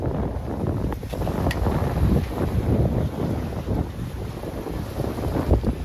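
Wind gusts around a sailboat out on the water, a loud buffeting rush across the microphone with a steady roar underneath and occasional faint creaks and knocks.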